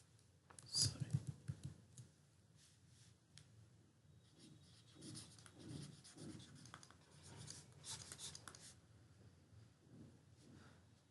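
Pen writing out math notes, with soft scratchy strokes in bursts and a sharp tap near the start, quiet and close.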